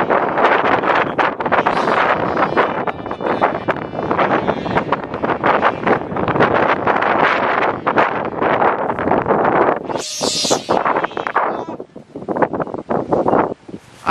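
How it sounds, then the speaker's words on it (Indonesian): Strong wind buffeting the microphone outdoors during kite flying, a loud continuous roar and rumble with gusty swells throughout. "Anginnya terlalu banter guys"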